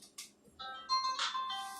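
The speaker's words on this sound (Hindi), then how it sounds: "एक मिनट, फोन आ गया भाई।" A mobile phone ringtone plays a short melodic electronic tune with a few chirpy notes, faint and slightly distant in a quiet room during a physics lesson.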